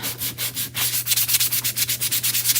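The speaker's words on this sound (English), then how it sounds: "Let's go around the edges with our little sanding block here." A flexible foam sanding block rubs around the edges of a craft piece in quick, regular back-and-forth strokes, close and fairly loud over a low steady hum, with no talking.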